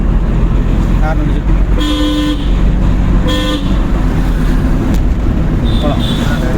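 Car horn honks in two short bursts over steady engine and road noise inside a driving-school car during a driving lesson, with an instructor and learner talking throughout.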